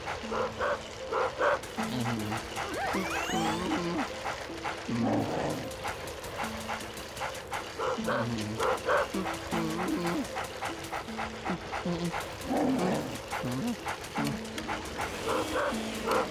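Yappy dog barking in the video game Luigi's Mansion, repeated short yips and barks in bursts over game music, fairly close and steady throughout.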